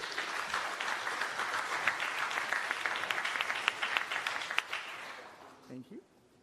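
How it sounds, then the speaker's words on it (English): An audience at a tech conference claps for a speaker, a sustained wash of applause that holds steady, then fades out near the end. "please give a round of applause for Terrence"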